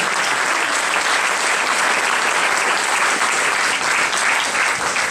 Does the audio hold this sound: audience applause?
yes